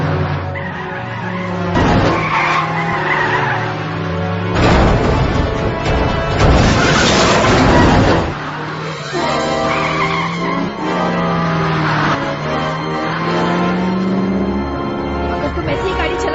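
A car in a movie chase scene driven hard at high speed, with long screeching tire skids, roaring engine and sweeping tonal music throughout, loud and dense, voices speaking briefly over the mix.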